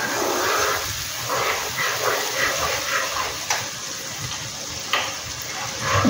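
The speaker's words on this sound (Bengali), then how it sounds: "এবার এটাকে একটু ভালো করে ভেজে নিতে হবে।" Onions frying in a pan for Bengali lobster malai curry: a steady, close sizzle and hiss that runs the whole time, with faint clatter from stirring and no speech.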